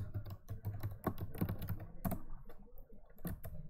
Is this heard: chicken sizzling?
no